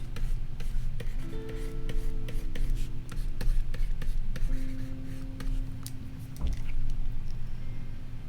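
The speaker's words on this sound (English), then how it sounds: "I'm asked to draw Zipper after I played him today." Pencil strokes scratch and rub steadily across paper while a character sketch is drawn, a close, continuous scribbling texture with quick tapping marks, over a low background hum and faint tonal sounds.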